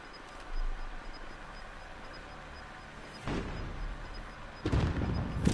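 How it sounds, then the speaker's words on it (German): A grenade explodes in Call of Duty: Modern Warfare Warzone with two sharp, loud bursts a little over a second apart, each with a rumbling tail, over a quiet game backdrop. "Dort ist eine Granate übergeflogen."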